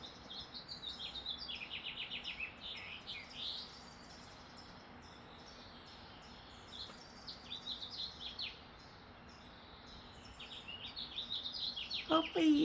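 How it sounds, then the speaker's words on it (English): Birds sing outdoors in repeated bright chirps and tweets, soft and somewhat distant over a quiet background, with a louder call near the end. "I don't know if you guys can hear the birds singing."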